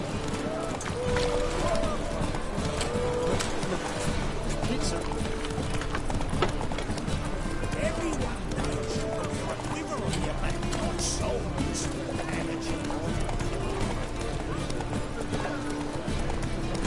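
Galloping horse hooves in The Witcher 3 on PS4, a steady rhythmic pounding running throughout under dense game music and ambience.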